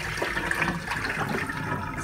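Fatty water with pickled fish poured out of a bucket, a continuous close splashing and gushing rush that keeps pouring steadily without pause, no voices.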